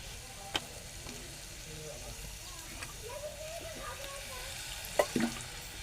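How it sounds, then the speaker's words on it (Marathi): Water splashed into a pan of sizzling snake gourd: a faint, low sizzle and stirring go on throughout, then a sudden sharp splash and spit of hot oil near the end. "पाण्याचा हक्का मी मारतो थोडासा पडवळ शिजण्यासाठी."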